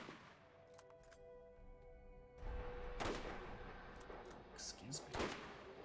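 Sniper rifle fire in Borderlands, with a sharp, loud shot cracking out after a quiet stretch and another burst of impacts near the end, all over a steady game background.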